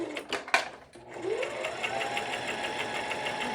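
A sewing machine runs a straight stitch down the fabric of a scrunchie, starting after a few handling clicks and settling into a steady, close, rapid mechanical whir that continues to the end.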